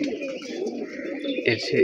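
Pigeons give soft, continuous cooing calls close by, a steady low murmur with a few brighter calls near the end and no pauses.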